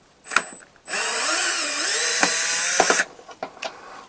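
A power drill bores into a battery box part outside the car, one loud steady whine of about two seconds with a falling pitch sweep, framed by clicks and handling knocks before and after.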